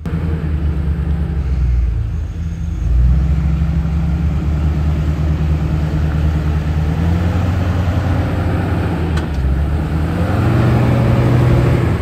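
A car engine rumbles steadily up close as the car is driven straight forward, a continuous low drone with no speech over it.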